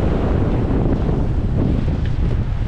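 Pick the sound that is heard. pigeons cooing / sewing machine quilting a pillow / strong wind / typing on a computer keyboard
strong wind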